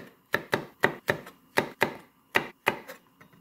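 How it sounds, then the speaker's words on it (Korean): Red chili peppers sliced with a knife on a cutting board: about ten crisp, evenly spaced knocks in a steady rhythm, close and clear, with no voices. "홍고추도 이렇게 뚝뚝 편으로 썰어줍니다."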